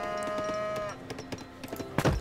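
A cow in Age of Empires Definitive Edition gives one long, drawn-out moo, followed by scattered soft thumps and clicks of game activity.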